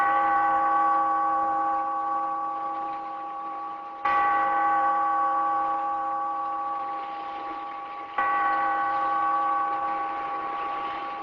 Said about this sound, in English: Bellkeeper, toll the bell